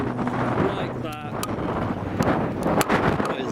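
Strong wind buffeting the microphone outdoors at a car show breakfast meet, a loud, constant low rumble with gusty swells throughout and faint traffic noise underneath.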